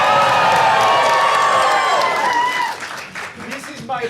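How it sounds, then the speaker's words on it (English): A school audience at a stage production of The Addams Family musical cheers and applauds loudly, a dense roar that holds steady before thinning into scattered claps and shouts. "The crowd goes wild."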